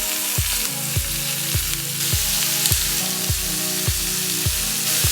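Prawns spiced with bhut jolokia sizzle in garlic butter in a cast iron pan: loud, steady frying crackle close up, with a repeating rhythmic hum or thump pattern running beneath it and no talking.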